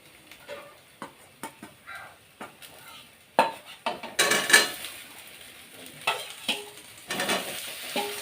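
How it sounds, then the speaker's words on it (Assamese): Potatoes go into a pan for frying, with a string of sharp clinks and scrapes of a spoon against the pan, then a louder sizzle rising as they hit the hot oil. "এতিয়া আলু দিওঁ।"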